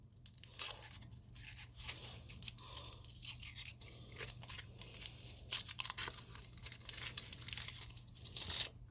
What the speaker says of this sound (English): Gotta unwrap it.